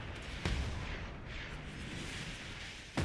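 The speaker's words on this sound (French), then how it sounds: "Vous voyez, il y a des explosions." Explosions in the Mad Max video game: two heavy booms, one near the start and one at the end, over a continuous roaring, rumbling background of in-game noise.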